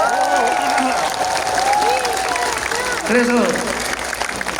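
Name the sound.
crowd applause at a campaign rally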